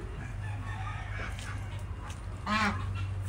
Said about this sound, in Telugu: ఇవి బాతులు.